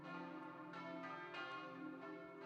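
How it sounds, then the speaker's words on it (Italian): Church bells ring over a churchyard at a child's funeral in Silea, Italy, with several resonant strikes whose long, humming tones overlap and sustain, heard alone without voices. "Il suono delle campane rimbomba sul sagrato e rompe un silenzio carico di dolore e interrogativi"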